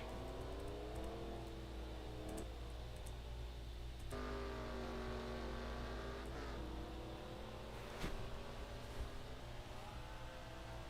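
Race cars in a racing game lap Road America, with several engine notes rising and falling in pitch as cars accelerate and pass, layered over a steady low rumble with no talk.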